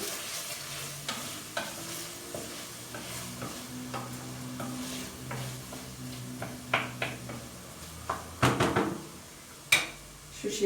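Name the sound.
garlic sizzling in a pan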